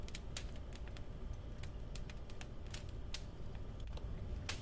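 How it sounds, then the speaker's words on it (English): A pen nib scratches across paper as a letter is written, irregular dry ticks and scrapes repeating steadily at close range. "You hear the nib scratch like soft snow on glass"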